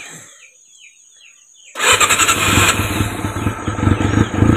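A Honda CB400SF motorcycle engine, fresh spark plug fitted, is silent at first with faint rustling, then cranks and fires abruptly into a loud, close, pulsing idle that runs rough in cold weather.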